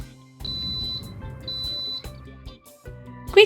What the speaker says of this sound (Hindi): बीप साउंड आते ही इसे ऑफ कर लें।